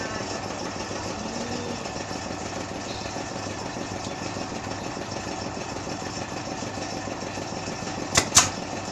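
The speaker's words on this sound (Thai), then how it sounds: "ปั๊มลมกับที่ทำงานเป็นระยะระยะอยู่ตลอดเวลาครับเพราะว่าต้องใช้งานอยู่ตลอด" An air compressor runs in a basket-weaving workshop, giving a steady, low mechanical hum throughout, with a brief sharp clank near the end.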